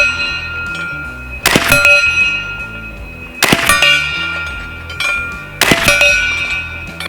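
A Bin Tac B&W S45 semi-auto PCP airgun fires three sharp, loud shots about two seconds apart, each followed by a bright metallic ringing that slowly fades.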